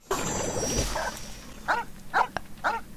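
A dog in the Genshin Impact video game gives three short, evenly spaced barks after a brief stretch of muffled background noise and game sound.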